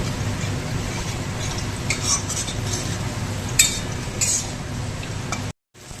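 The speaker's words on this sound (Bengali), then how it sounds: "এবার এটার সাথে এটাকে ভালো করে মিক্স করে নেব" Mustard paste ground with salt is stirred into fried katla fish in a pan, with steady scraping and light utensil clinks over a faint sizzle, stopping abruptly just before the end.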